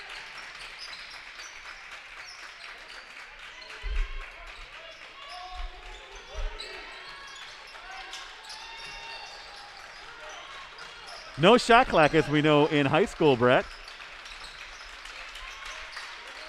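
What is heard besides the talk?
fans clapping at a high school basketball game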